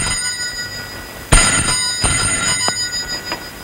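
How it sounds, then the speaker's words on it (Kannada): A telephone rings with a sudden loud onset, its bell repeating in a few short bursts in a quiet indoor scene from a Kannada action film. "ಅದು ನನ್ನ ಫೋನ್"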